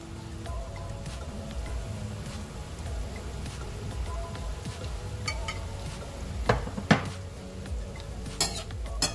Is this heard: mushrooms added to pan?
yes